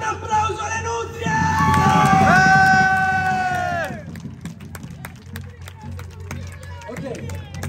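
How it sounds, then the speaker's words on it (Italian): A festival crowd at a live folk concert in Polesella cheers and yells loudly, then breaks into scattered clapping that continues under lighter crowd noise. "Un applauso alle nutrie!"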